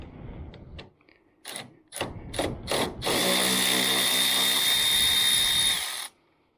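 A power ratchet or drill drives an 8mm socket on an extension while unbolting a 2009 Dodge Challenger headlight, with several short bursts followed by one sustained whir lasting a few seconds, loud and close.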